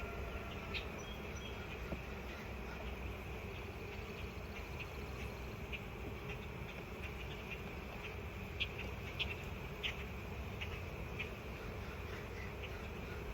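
Honey bees fanning at a hive give a steady, low insect hum that holds evenly throughout, with occasional faint higher buzzes of individual bees passing close.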